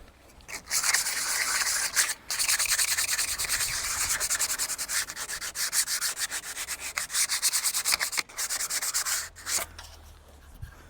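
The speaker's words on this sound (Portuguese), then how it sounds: "de dar uma lixadela. Para agarrar melhor o painel." Sandpaper rubs by hand over a campervan surface before a solar panel is mounted, a loud, close, rhythmic scraping in continuous strokes with brief pauses.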